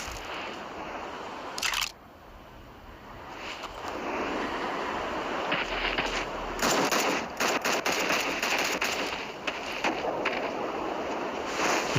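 Gunfire in the video game Forces of Freedom rattles in rapid bursts and scattered shots over a constant background rumble, fairly faint and mixed into the game's ambience.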